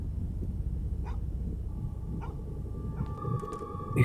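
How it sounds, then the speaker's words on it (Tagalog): In the horror game Fear to Fathom Home Alone, a dog barks in a few separate, fairly distant yips and barks over a low rumbling background, followed by a brighter tonal sound near the end. "Oh, may aso."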